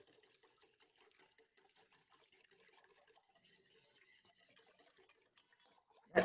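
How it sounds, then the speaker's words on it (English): Softened butter and liquid for a yeast dough are whisked in a bowl, giving a quiet, steady run of light rhythmic clinks and taps that ends in a sudden louder knock. "I'm gonna whisk that up"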